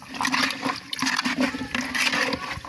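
Three liters of rice water pours and splashes steadily into a container, a continuous gurgling stream with uneven surges, close up and alone.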